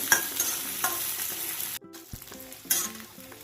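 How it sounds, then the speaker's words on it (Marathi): Chili pieces sautéing in a pan for paneer chilli, with loud close sizzling and the clatter of stirring, broken by a brief pause before the frying resumes. "मिरचीचे तुकडे टाकते हे चांगले परतायचे चांगले शिजेपर्यंत परतायचे"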